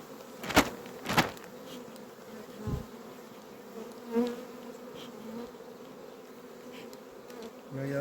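Steady low buzzing from a mass of honeybees in a hive fills the background, with a few sharp knocks and thumps near the start.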